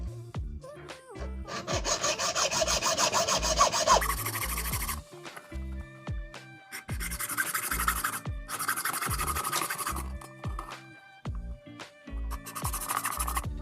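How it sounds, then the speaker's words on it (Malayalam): A hacksaw blade cuts a coconut shell square to shape a ring, with loud, rhythmic back-and-forth rasping strokes in several bursts separated by brief pauses, heard close and alone. "അപ്പോൾ നമ്മൾ ആഴ്സോ ബ്ലേഡിനൊന്ന് കട്ട് ചെയ്ത് നമ്മൾ എടുക്കാം."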